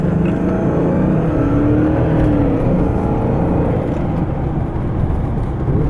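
A 1995 Mercedes-Benz S500 W140 climbing a hill on a test drive, its engine a loud, steady low drone with road rumble, heard from inside the car with no talking.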